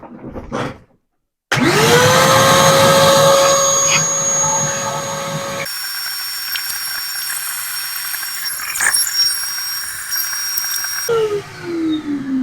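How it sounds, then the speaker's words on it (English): A vacuum cleaner sucks up dust inside a cheap generator after its plastic housing comes off, the motor whining up to a loud steady roar, dropping in pitch midway and spinning down at the end. "I'm going to get my vacuum. I'm going to clean all this up."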